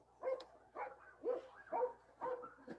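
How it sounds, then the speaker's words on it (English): A dog barking in the background of a physics lecture, a short run of faint, muffled barks in an even rhythm, distant and quiet. "Freaking dog."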